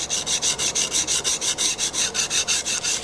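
A hand plane blade is rubbed back and forth on the 300 grit side of a diamond sharpening stone, giving a close, rhythmic scraping of about a dozen even strokes with nothing else heard.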